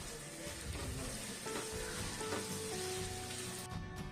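Onions and green chillies frying in a pan with a spoonful of salt for a chana dal egg curry, a steady close sizzle throughout with faint stirring scrapes and no talk.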